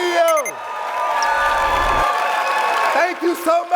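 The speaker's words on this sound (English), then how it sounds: "Clap it up" Applause and cheering from an audience at a motivational talk, mixed under a voice speaking over the crowd for most of the stretch.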